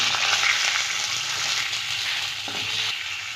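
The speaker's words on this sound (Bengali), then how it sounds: "এবার আমি আলুগুলো ভেজে নেব।" Potatoes fry in hot oil for a spicy rui fish curry with ripe tomatoes, a steady, close, crackling sizzle with no voices over it.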